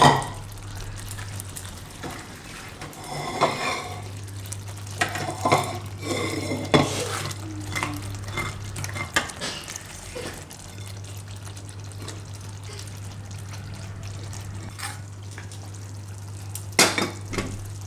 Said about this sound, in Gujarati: તો આની ગ્રેવીમાં મિક્સ કરી લઉં ભીંડાને